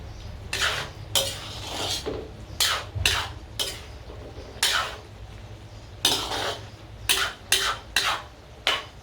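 Vegetables and mushrooms tossed in a cooking pan, bursts of metal utensil scraping and clattering against the pan in uneven strokes, close and fairly loud over a low hum, with no talk.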